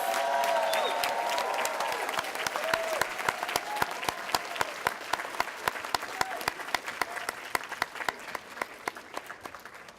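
A large audience claps steadily for graduates at a university celebratory ceremony, with dense applause at first that thins out into scattered individual claps near the end.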